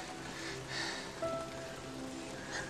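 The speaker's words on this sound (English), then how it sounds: "Rain all around us." Steady rain falls all around, an even soft hiss with scattered drops on surfaces, moderate and continuous with no voices.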